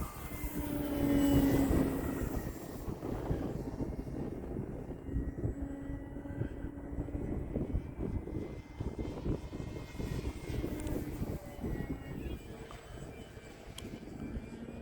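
An E-flite Extra 300 3D 1.3m electric RC airplane flying overhead, its steady motor drone rising and falling as it passes at moderate distance, with broadband wind and outdoor noise throughout.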